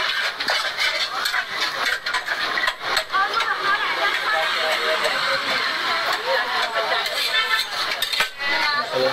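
Vegetables and tomato cut for a paneer chilla at a Nainital street food stall, with knife clinks and the clatter of utensils and pans under near, continuous talk and busy street noise.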